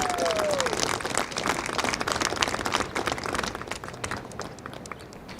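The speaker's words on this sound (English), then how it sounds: "Let's give another round of applause for the Davis Guard drill team." Crowd applause for a drill team at an Army and Navy Academy Veterans Day parade, a steady outdoor wash of clapping with a whistle near the start, tapering slightly toward the end.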